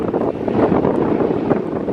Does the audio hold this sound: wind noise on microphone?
yes